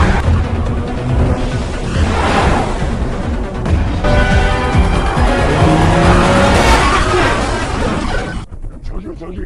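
A film car chase, with police cars pursuing a gangster's vehicle, roars loudly and continuously with engines revving and tires squealing, mixed with shouting voices and dramatic music.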